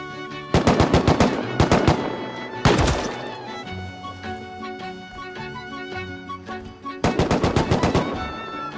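Automatic gunfire in the survival video game Rust, three loud rapid bursts of shots close by, with quieter game sounds ringing between them.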